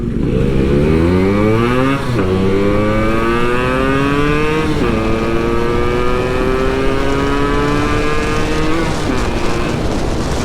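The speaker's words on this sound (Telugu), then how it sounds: "ఈరోజు రైడ్ వచ్చేసి 2 RXలో ఒక డామినారో." Two Yamaha RX135 two-stroke motorcycles and a Bajaj Dominar ride at night, loud and close, with engines revving up through gears in rising sweeps and overlapping exhaust notes.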